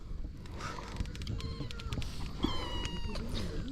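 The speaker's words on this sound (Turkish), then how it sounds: "Onun kedisiymiş. Yani o sahiplenmiş herhalde yeni. Ama çok minik." A tiny newly adopted kitten meows at a free campsite near Karaot beach, giving several thin, high meows in quick succession, fairly close but quiet.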